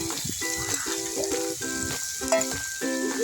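Spice paste hitting hot oil with fried pointed gourd for a prawn and potol curry, a steady close sizzle and crackle running throughout with no talking.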